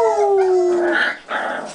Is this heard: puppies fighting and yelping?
yes